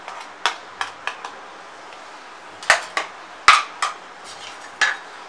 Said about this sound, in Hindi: उसे स्पून की मदद से अच्छे से मिक्स कर लेंगे